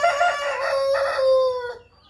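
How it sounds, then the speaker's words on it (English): A rooster crows once nearby beside a backyard chicken coop, a loud drawn-out call that rises and then trails off, with no other sounds around it. "the rooster is making noise for me"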